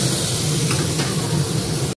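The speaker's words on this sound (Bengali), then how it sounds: "মাছগুলো দিয়ে দিলাম, একটু ফুটে যাক" Fish pieces settle into a simmering tomato and potato curry, giving a steady moderate sizzling hiss throughout, then a brief knock at the very end.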